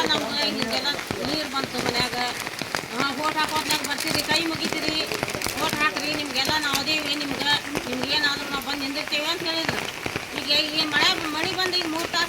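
Heavy monsoon rain in Karnataka pours down continuously with a dense patter across surfaces, while people talk throughout over the downpour.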